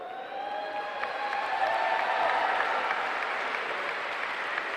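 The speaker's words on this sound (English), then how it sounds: "Please keep the applause going" Sustained applause from a women's college basketball crowd, a dense steady clatter of many hands clapping together, holding at an even level for several seconds.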